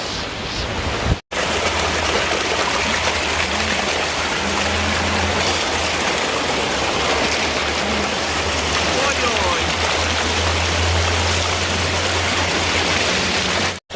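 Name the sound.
stream and waterfall at Little Dunn's River, Ocho Rios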